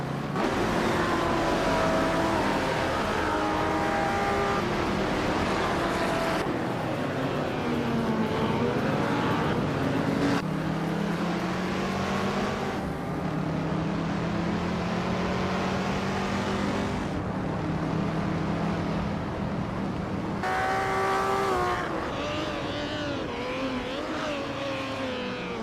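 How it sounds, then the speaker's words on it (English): Vintage race cars led by a classic 1963 Ferrari 250 roar off the line at the start of a Circuit de Pau race in a racing game, engines droning loudly and continuously with rising and falling revs over a backing music bed. "the race kicks off at Circuit de Pau Vintage. And leading the pack is Hingle McCringleberry in a classic 1963 Ferrari 250"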